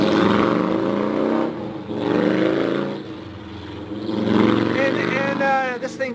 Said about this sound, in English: There's that motorcycle guy again.